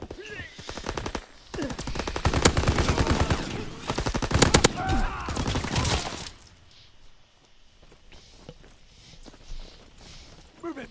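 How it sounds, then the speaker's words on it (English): Rapid bursts of automatic gunfire from Call of Duty: WWII ring out near a church, loud and sustained through the first six seconds, then give way to quieter scattered shots, footsteps and movement. "Shooting people, gunning people down by the church"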